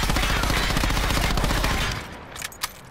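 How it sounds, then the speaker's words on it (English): Rapid automatic fire from an SOG submachine gun in a video game, a loud continuous burst of shots for about two seconds, then stopping with a few faint clicks. "Now this is me controlling the SOG recoil."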